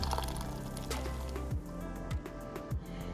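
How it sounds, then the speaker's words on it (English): Chili sauce poured into a pot of beef rib pozole, a close, continuous wet pouring and splashing with a few soft thuds against the pot. "now what I'm going to do is I'm going to pour the chili in here"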